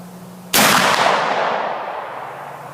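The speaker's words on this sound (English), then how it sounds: "And shot number 3 is downrange." A single sharp rifle shot rings out at an outdoor range, firing a Hornady Great Plains bullet from a 1:38 twist barrel. Quiet hum comes before the shot, then a loud crack decays into a long, fading echo.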